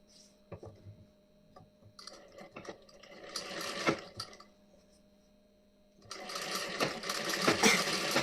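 A sewing machine runs in stop-start bursts while stitching a blouse's back neck design, starting with light ticks and building into a steady, louder whir near the end.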